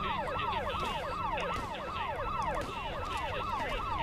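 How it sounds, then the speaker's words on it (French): Police sirens in the Rambo video game wail continuously in a fast, repeating up-and-down sweep, several overlapping at a moderate, steady level with a rumbling background. "les sirènes elles vont me rendre fou par contre"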